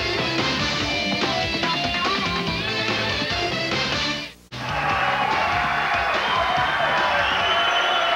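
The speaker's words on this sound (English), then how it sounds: "Great crowd in Lakewood," A crowd at a 2004 PBA Tour bowling event in Lakewood, Colorado cheers and claps loudly and continuously. The noise drops out sharply for a moment midway, then comes back just as full.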